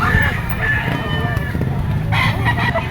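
A yellow-legged golden boy sweater stag rooster crows amid other chickens clucking and crowing nearby, producing several overlapping calls over a busy yard of poultry with someone talking close by.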